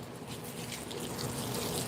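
Water pours steadily into a container to soak Mosquito Bits for an indoor plant, a continuous close splashing rush with no speech.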